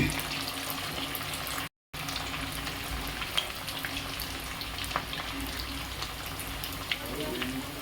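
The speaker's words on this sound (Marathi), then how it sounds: "तेल मी छान तापवून घेतलंय कडक आणि मग मीडियम फ्लेमवर गॅस करून आता हे बट्टी तळून घेतली" Pieces of batti dough fry in hot oil over a medium flame, giving a continuous close crackling sizzle with scattered pops and a brief cut of silence, steady and moderately loud throughout.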